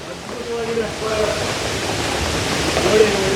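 The waterfall at Varichora drops water from above like rain, making a steady, close, broadband rush that swells slightly, with faint voices mixed in.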